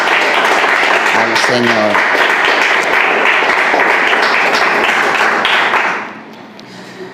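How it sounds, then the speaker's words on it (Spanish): A church congregation bursts into loud, sustained applause with scattered sharp claps, a voice briefly calling out over it, before the clapping drops off abruptly and leaves quiet murmuring. "vamos a dar un aplauso"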